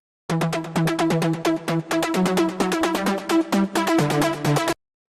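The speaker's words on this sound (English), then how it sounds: "This trance ARP here. It sounds like this." A bright trance synth arpeggio made in LMMS runs fast, evenly spaced notes in a repeating pattern, playing alone at a strong, steady level before stopping abruptly.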